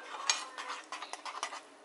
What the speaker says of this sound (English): here you can see that the sugar has melted and it is currently boiling.